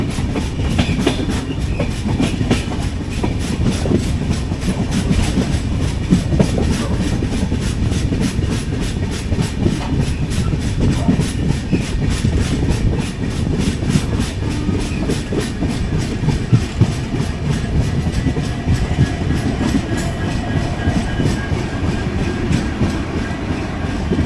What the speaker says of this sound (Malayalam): ബാംഗ്ലൂരിലേക്കുള്ള പഞ്ചഗംഗ എക്സ്പ്രസ് ആണിത്.